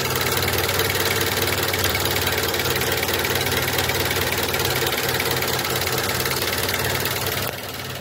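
A car engine idles roughly during an idle speed control valve test, giving a steady, loud, close mechanical drone with a vibrating, knocking texture that drops slightly in level near the end.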